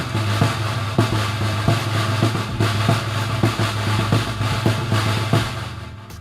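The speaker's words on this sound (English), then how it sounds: "the snare head sound like this" A deep snare drum, freshly tuned, is struck repeatedly in a steady, even rhythm, each hit sharp and close with a buzzing rattle under a continuous low background hum.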